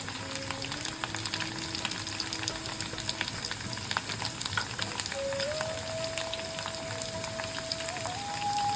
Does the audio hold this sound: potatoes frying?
yes